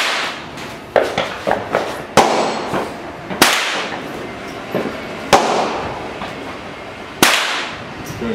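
Shots from a Vepr rifle in 5.45, sharp loud cracks fired one at a time at irregular intervals, each followed by a brief echoing decay outdoors.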